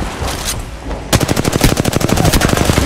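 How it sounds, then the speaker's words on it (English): Rapid automatic gunfire in the Apex Legends battle royale game starts abruptly after a second of quieter ambience, then continues as a loud, dense burst of repeated shots to the end. "You shot her through a wall!"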